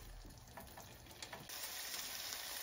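Arvi (taro root) fries in a pan with a soft, continuous sizzle, faint and steady with light stirring scrapes, growing a little louder partway through.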